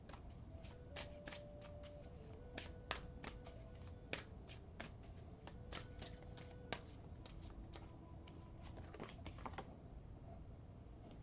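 Voyage of Your Soul oracle cards are shuffled by hand in a quiet room, with a continuous run of crisp, close clicks and flutters as the deck is worked.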